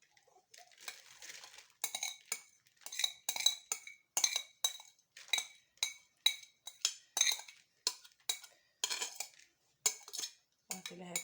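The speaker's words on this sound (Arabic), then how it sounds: "غادي نفرغ فيه ديك الكينوا اللي ديجا سلقنا" Spoonfuls of cooked quinoa scraped and tapped into a bowl, a steady run of clinking metal-on-dish strikes about once a second, close and fairly quiet.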